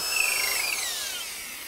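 A power drill bores a half-inch hole through a tree trunk, its high motor whine rising and then sliding downward as the bit cuts through the wood, loud and close with no talking.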